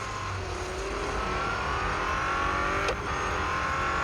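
An Aston Martin GTE race car in a racing video game drones loudly and steadily as its engine holds a high pitch. Near the end there is a brief sharp transient, and the engine roar goes on without a break.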